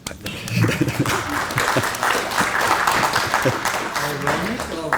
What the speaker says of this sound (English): So a big applause for that.